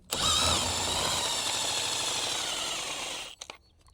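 Power tool driving a manual jack with a 3/4 socket to lower a Can-Am Defender, giving a loud, steady whirring buzz for about three seconds that cuts off abruptly, followed by a few faint clicks.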